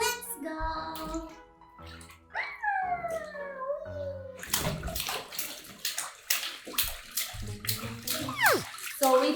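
Bath water splashing and sloshing in a baby's bubble bath, arriving in bursts in the second half after sustained tonal vocal sounds, close by, with a voice heard throughout.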